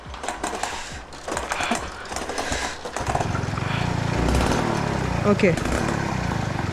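A Mobylette moped engine being started outdoors, first a few rough mechanical clatters with a short spoken word, then catching and settling into a steady, loud two-stroke idle with buzzing harmonics that keep running to the end.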